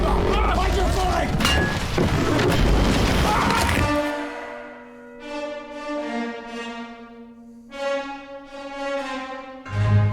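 A loose cannon crashes aboard a ship in Return of the Obra Dinn, a video game: a loud, dense rumbling crash fills the first four seconds, then gives way to sustained tonal music.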